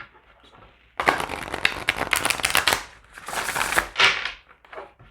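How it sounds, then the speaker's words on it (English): A tarot card deck is shuffled by hand in several brisk, rustling bursts with short pauses between them, close and fairly soft after a quiet start. "One more shuffle of the tarot."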